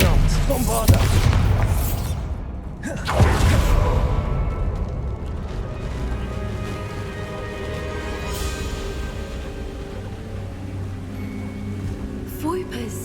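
Explosive spells in Hogwarts Legacy combat: heavy booming blasts, two strong impacts early followed by a rumbling, crackling battle din that fades slowly, with faint game sounds later.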